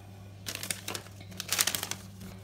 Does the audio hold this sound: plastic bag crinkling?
yes